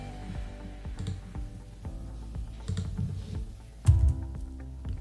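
Someone types on a computer keyboard with a French layout, producing soft, uneven clusters of key clicks. A slightly louder tap comes near the end.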